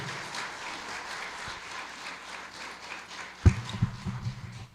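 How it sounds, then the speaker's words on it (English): Scattered applause from an audience, a steady patter of clapping with a couple of louder thumps toward the end. "let's give a round of applause to Gary Froyland"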